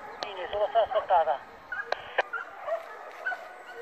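Hunting dogs on a wild boar hunt bark and yelp in quick excited bursts with some whimpering, heard at moderate distance outdoors, with a person's voice briefly mixed in.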